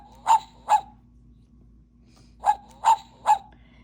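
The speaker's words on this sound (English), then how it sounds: "He called his dog Max." A dog barks twice, pauses, then barks three more times in short, fairly loud yips over a quiet background hum, with no one talking.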